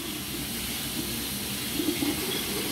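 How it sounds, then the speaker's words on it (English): Running faucet water rinsing the lid of a denture cup at a sink, a steady close rushing stream with slight splashy variation throughout, no voices. "I would next turn on both faucets"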